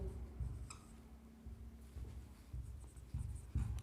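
Marker or chalk scratching across a classroom board during a chemistry lesson, short strokes in bursts with brief pauses between, close and fairly quiet.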